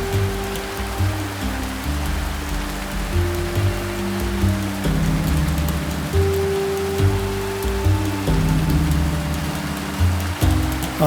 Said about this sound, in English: The depressing, wetting rain.